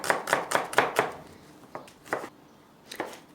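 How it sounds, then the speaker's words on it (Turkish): Rapid knife chops through an onion on a cutting board, a quick run of about eight strokes, then a few slower, spaced chops. "Onun üzerine soğanımı şöyle orta büyüklükte yemeklik doğrayıp"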